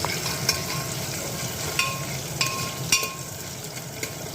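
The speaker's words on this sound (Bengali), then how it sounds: "এবার আমি পেঁয়াজ দিয়ে দিচ্ছি চলো পেঁয়াজটা ভেজে নিয়ে আমি মশলা দেব" Onions sizzle in a pan for a goat mutton curry, a steady, fairly faint frying hiss with a few light clicks and scrapes from stirring.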